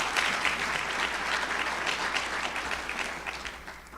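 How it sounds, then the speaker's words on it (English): Audience applause at a county State of the County address, honoring the Prince George's County Health Department staff: dense, steady clapping from a large crowd that fills the whole stretch and eases off slightly at the end. "Please give them another round of applause."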